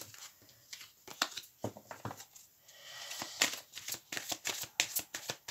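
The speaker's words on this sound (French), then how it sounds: "un petit tour de cartes. Bien mélanger tout ça." A deck of cards is shuffled up close during a card reading, giving rapid bursts of riffling, flapping clicks with brief pauses between rounds, fairly quiet and without any talking.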